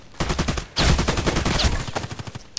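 Rapid automatic fire from an AK-105 rifle in the shooter game Contract Wars: two dense bursts of sharp, evenly spaced shots, loud and close, with a brief pause between them and no talk.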